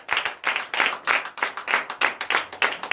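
A church congregation claps in rhythmic bursts at a Sunday worship service in Bénin, acclaiming Jesus with steady, close, lively applause.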